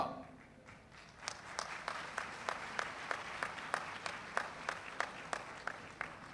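An audience claps at the first-anniversary Marka-e-Haq event at Dawood University, attended by the Governor of Sindh. The applause starts softly, then settles into a steady, rhythmic unison clapping that lasts throughout, with no talking over it.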